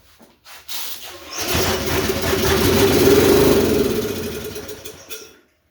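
A flood-damaged Snapper riding lawn mower engine sputters to life and runs steadily, loud and close, with a rough rumbling idle before cutting off.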